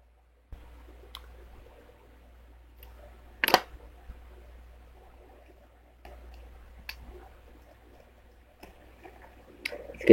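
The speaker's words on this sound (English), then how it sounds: "And I'm gonna pick up all the screws. It's a great way to pick up screws." Magnetic pickup tool snapping up loose screws, sharp metallic clicks scattered across a quiet background, a few louder close clacks standing out among fainter ticks.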